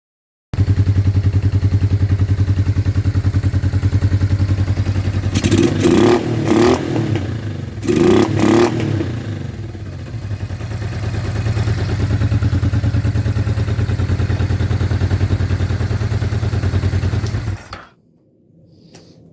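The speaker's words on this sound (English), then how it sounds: "I get the bike started, and hopefully the 2 cylinders are running the way they should" A 1999 Honda Deauville 650 twin-cylinder motorcycle engine idles steadily and loudly close by, with a couple of short bursts of revving and clatter in the middle before it cuts off at the end.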